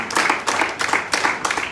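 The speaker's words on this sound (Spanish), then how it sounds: "Aplausos al Señor." A Pentecostal church congregation claps for the Lord during a Bible study service, a short burst of loud, close, rhythmic hand clapping in quick pulses.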